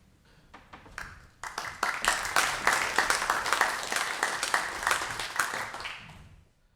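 Scattered claps build quickly into a full round of applause from a church congregation, sustained and then slowly fading.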